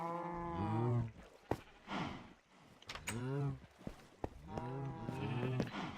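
Sheep in a Minecraft-style block-building game bleat repeatedly in short, wavering calls, several overlapping at close range, with a few sharp clicks and taps between them and no talking.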